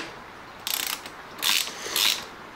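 Ratchet clicks in three short bursts as a top right-hand radiator fixing bolt is undone on a Kawasaki ZX-14R motorcycle, close and clear with no talking.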